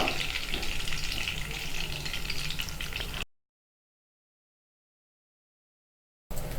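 Whole garam masala (bay leaf, cumin, cinnamon, cardamom and cloves) frying in oil for a mushroom masala: a steady close sizzle with light stirring, then about three seconds of total silence before the sizzle returns briefly.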